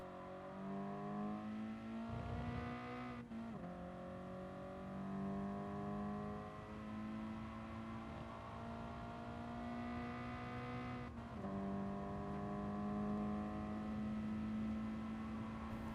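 Engine of a Toyota 86/Subaru race car in Gran Turismo Sport revs up through the gears, rising harmonic whine with two quick shift dips and tyre noise, steady and close.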